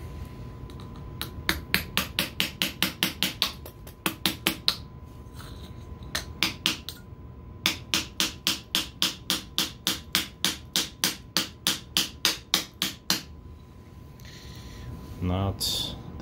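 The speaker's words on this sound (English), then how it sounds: "So I just use this surface to try to hammer this nail into this piece of pine." Repeated sharp hammer blows driving a nail into pine wood, in quick rhythmic bursts of about ten strikes separated by short pauses, close and crisp.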